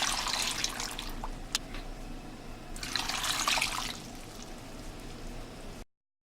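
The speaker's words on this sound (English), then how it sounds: "So now I'm gonna add water to wash it." Water splashing and swishing continuously as sliced potatoes are washed in a container, with brief louder sloshes, close by and steady until it cuts off.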